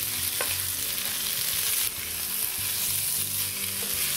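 Potatoes and tomatoes sauté in a pan for aloo sabzi, a loud continuous sizzle and crackle of frying with occasional stirring clinks, close up and without talk.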